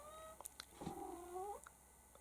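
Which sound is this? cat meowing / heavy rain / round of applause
cat meowing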